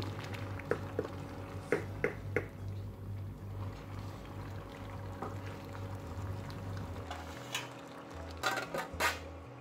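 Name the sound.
stirring and sautéing meat with spices in a pot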